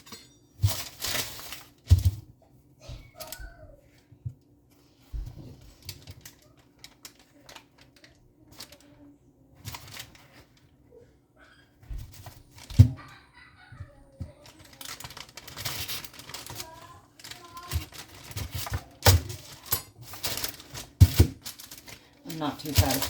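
A knife cuts another portion off a scored block of handmade soap, giving scattered short scraping and tapping sounds with a few sharper knocks, fairly faint and irregular, with speech between.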